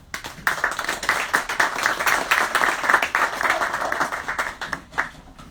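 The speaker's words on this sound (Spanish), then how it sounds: "Un aplauso para Arturo" An audience at a book launch applauds steadily for about five seconds, a dense patter of many hands clapping at moderate loudness in an indoor hall.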